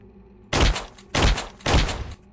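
Three loud gunshots fired one after another at a steady pace in the horror video game Shift at Midnight, each a sharp, booming blast with a short decay, heard close and clear with no talk over them.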